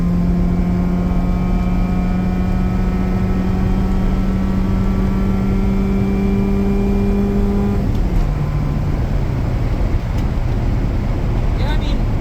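A 1987 Honda Civic Wagovan RT4WD engine drones steadily under load while driving, its pitch climbing slowly, then dropping sharply after a gear change near the end, close and loud throughout.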